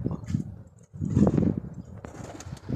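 Pigeons cooing in soft, low, repeated murmurs. The calls come in short bursts with a brief pause, and there is a light flutter of movement around them.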